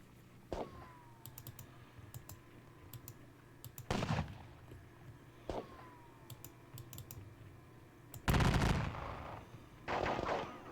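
Gunfire in the wargame WDS Battle Around Salamanca, a few sharp isolated shots spaced several seconds apart, one with a falling whistle, over a quiet background, then two louder bursts near the end.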